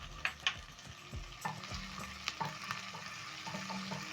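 Onions, garlic and ginger fry in cooking oil in a pan with a low, steady sizzle, punctuated by clinks and scrapes of stirring, heard close and quiet without any talk.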